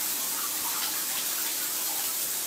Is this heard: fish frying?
no